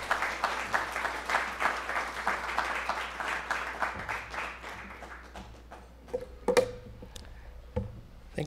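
An audience at a lecture event applauds to welcome speaker Larry Arnn, a dense burst of clapping that thins to scattered individual claps and fades out toward the end.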